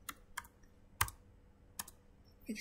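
Keys tapped on a computer keyboard while entering a Cisco router command, a few sparse, soft clicks spaced out over a quiet background, with a slightly louder keystroke near the end.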